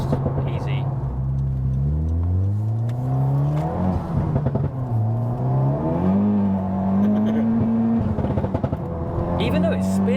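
A 420 bhp Honda Civic Type R FK8 engine droning and rising through the revs under acceleration, heard from inside the car, with people talking over it.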